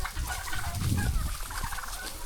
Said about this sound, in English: we're down here with the chickens, turkeys